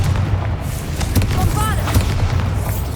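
A Confringo fire spell explodes in Hogwarts Legacy, with several booming blasts and crackling bursts over a steady low rumble of game ambience.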